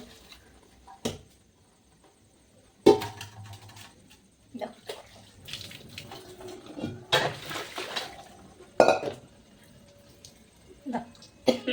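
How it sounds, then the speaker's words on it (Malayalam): Cooked noodles poured into a perforated colander to strain, with intermittent splashes and metal clatter in bursts over a kitchen background, along with occasional speech. "നമ്മുടെ നൂഡിൽസ് നമുക്ക് അരിച്ചിടുന്നു അത് ഞാനൊരു ഓട്ടപാത്രത്തിൽ ഒഴിക്കുന്നുണ്ട്"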